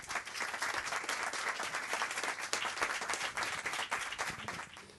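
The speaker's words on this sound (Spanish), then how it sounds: "os dejo con Esteban, le dais un fuertísimo aplauso" Sustained applause from an audience welcoming a speaker at a book talk, dense and steady clapping throughout that fades slightly at the end.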